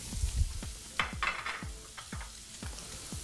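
About a cup of onions sizzles in two tablespoons of butter in a pan, a soft steady crackle under repeated clinks and scrapes of a utensil stirring, heard close and without talk.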